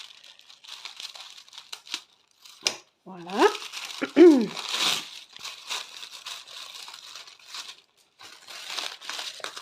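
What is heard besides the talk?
tissue paper crinkling during unwrapping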